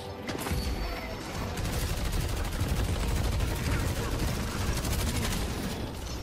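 Rapid automatic gunfire from the video game Deadlock rattles in dense, continuous bursts, loud and busy throughout, with occasional voices underneath.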